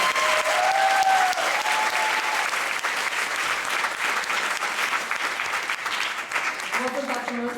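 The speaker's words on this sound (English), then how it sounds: "Ladies and gentlemen, give a round of applause for our director." A round of applause for the director at a stage performance in an auditorium, a large crowd clapping loudly and steadily, fading slightly toward the end as a voice begins to speak.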